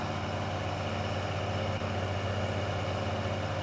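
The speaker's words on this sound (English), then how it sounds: "Let's get the truck unloaded here." A truck engine idles in Farming Simulator 19, a steady low rumble with a constant hum and no pauses, heard alone without talk.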